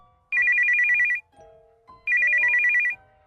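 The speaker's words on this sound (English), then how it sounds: "Again, the phone rang." A phone rings twice in a bedroom at night, two bright electronic ringtone bursts separated by a short pause, loud and close with nothing else around them.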